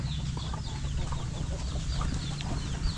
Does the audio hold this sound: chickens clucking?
yes